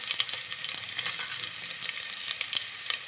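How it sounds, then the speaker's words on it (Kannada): Onion, green chili, garlic, ginger, cinnamon, cloves and pepper frying in a pan for veg donne biryani, a dense, bright crackling sizzle with small pops, steady and close throughout. "ಇದೆಲ್ಲ ಫ್ರೈ ಮಾಡ್ಕೊಳ್ಳೋಣ."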